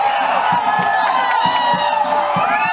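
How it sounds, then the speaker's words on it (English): A rugby league crowd at a Navy SC versus Army SC match screams and cheers loudly and continuously, with overlapping shouted voices rising and falling. "the crowd screaming around"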